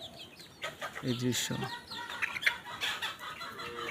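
Desi chickens cluck during morning feeding, giving a few short, quiet clucks and calls amid light farmyard noise, and a person speaks briefly.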